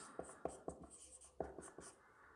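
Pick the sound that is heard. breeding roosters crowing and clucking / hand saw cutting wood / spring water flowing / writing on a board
writing on a board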